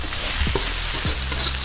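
Fried fish for fish chukka gets stirred in a pan, a steady hiss of frying with a few soft scraping sweeps of a spatula, close and without any talking.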